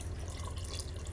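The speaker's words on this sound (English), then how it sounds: "you want to fill up the jar with water and pour that in there in its entirety" Water poured from a rinsed sauce jar into a pot for one-pot hamburger mac gives a steady, close pouring splash that runs without a break and with no talk over it.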